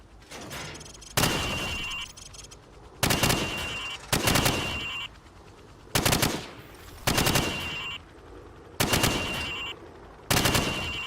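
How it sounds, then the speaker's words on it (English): Video game gunfire rings out as pop-up targets are shot through wood, loud sharp bursts repeating about every second and a half, seven in all, with quieter gaps between. "I want you to shoot the targets through the wood."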